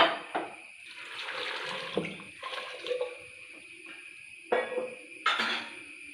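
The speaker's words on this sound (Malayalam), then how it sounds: "ഇതിനകത്തേക്ക് ആവശ്യത്തിനുള്ള വെള്ളം ഒഴിച്ചു കൊടുക്കാം" Water is poured into a pressure-cooker pot of vegetables for sadya-style sambar, giving a running, splashing pour with a few louder bursts of clatter, close and unaccompanied by speech.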